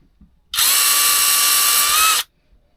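A Parkside cordless power drill whirs loudly at steady high speed for under two seconds, starting and stopping abruptly, with no talking.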